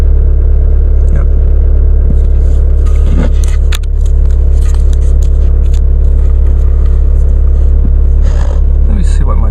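A 2016 Chevrolet Colorado with the Duramax diesel idling after a cold start, a loud, steady low rumble close up, with occasional clicks and a few handling noises.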